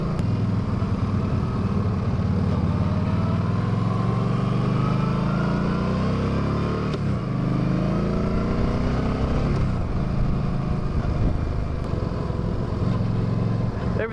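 A Yamaha V-Star 1300 Deluxe motorcycle rumbles on a ride, its engine note easing down and then climbing again through the turns, steady and loud under heavy wind buffeting, with no speech.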